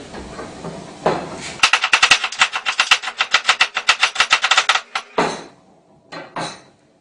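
Knife chopping onion on a cutting board: a rapid run of about twenty sharp, evenly spaced knocks, close and loud, followed by a few slower isolated chops, with no talking.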